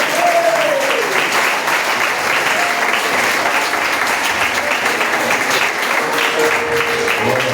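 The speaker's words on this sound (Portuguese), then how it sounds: "Assim eu quero agradecer essa oportunidade e as palmas da organização." A church congregation applauds continuously and loudly, a dense sustained wash of many hands clapping throughout, with a faint voice or tone briefly audible beneath.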